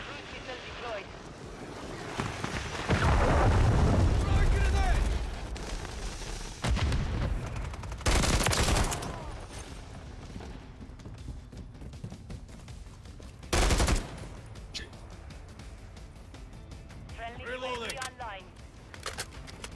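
Loud bursts of gunfire and heavy explosions from Call of Duty Modern Warfare III, with big booming blasts and rattling shots breaking through a dense battle din while a player talks and in-game radio callouts sound.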